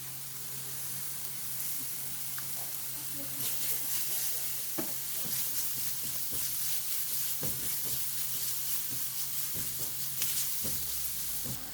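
Garlic sizzling in a hot pan for an ossobuco, a steady close frying hiss with scattered pops and stirring clicks, no voices.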